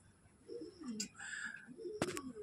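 Lokka pigeons coo close by, a few soft throaty rolls repeated over a couple of seconds, with brief bright chirps mixed in.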